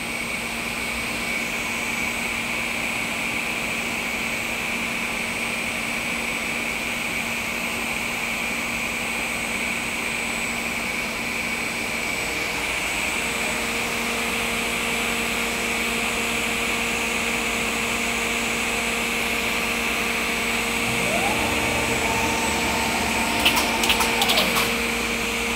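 An Altendorf F45 Elmo Drive panel saw running, a steady mechanical drone with a constant whine, joined near the end by a brief rising motor tone and a few clicks as settings adjust.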